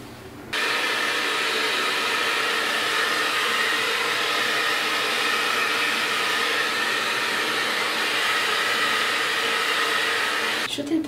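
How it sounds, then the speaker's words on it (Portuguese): A hair dryer blows loudly and steadily for about ten seconds, switching on abruptly after a brief pause and cutting off at the end. "Eu vou bater um secador aqui."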